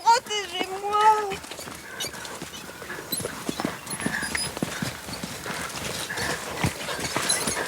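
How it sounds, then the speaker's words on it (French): A knight's horse gallops through the night, its hooves pounding in a fast, steady clatter close by. A brief vocal or whinny-like sound comes at the start, then the drumming hooves continue to the end. "Le chevalier arrive au galop dans la nuit."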